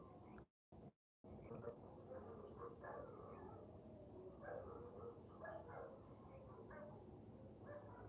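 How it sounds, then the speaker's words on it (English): A dog barks at coyotes at night, with several short distant yips and barks scattered across the stretch over low background noise, while a coyote pack howls faintly. "So there's a dog barking at them"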